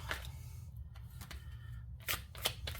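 Tarot cards being shuffled, with soft papery riffles and slides and a few sharper snaps as cards are drawn, close and fairly quiet, no one speaking.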